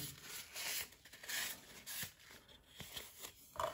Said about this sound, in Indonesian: kita coba bersihkan dengan tisu supaya tidak ada debu yang menempel